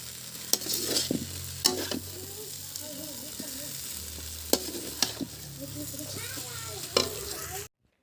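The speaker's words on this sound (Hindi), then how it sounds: "सब्ज़ी डालने के बाद हमने सब्ज़ी को अच्छे से चलाए" Vegetables stirred in a hot pan with dried red chillies, ginger-garlic paste, onion and spices, sizzling and frying steadily with sharp scraping clicks of a spoon against the pan, close up in a mud-house kitchen.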